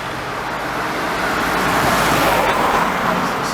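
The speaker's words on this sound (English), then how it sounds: "We have a couple more cars coming around the corner here again." Cars come around a corner and pass close by a cyclist on the road. A loud tire and engine roar builds steadily and peaks as they go by, over constant road and wind noise.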